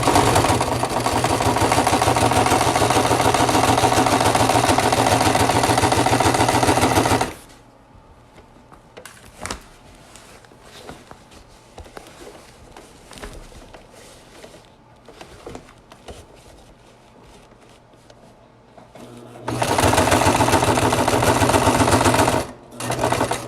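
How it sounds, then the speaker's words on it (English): A sewing machine stitches a patch onto leather in two long, loud, steady runs of rapid needle chatter, separated by a quieter pause of handling and small clicks before the motor starts again near the end. "And start sewing."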